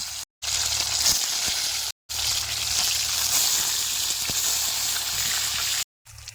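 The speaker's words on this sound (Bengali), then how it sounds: "এই গরম তেলে মাছ দিয়ে লাল লাল করে ভাজি নেব" Fish sizzle loudly in hot mustard oil in a pan, a continuous crackling hiss with small pops, broken by three short silent gaps; no voices.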